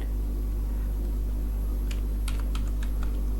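Keys clatter on a computer keyboard as HTML code is typed, a quick run of light clicks in the second half over a constant low electrical hum.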